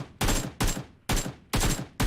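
PUBG Mobile gunfire rattles in five loud, sharp bursts in quick succession, each cut off by a brief pause.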